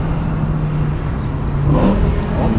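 A BMW M6 engine idles with a low steady rumble, then briefly revs up near the end.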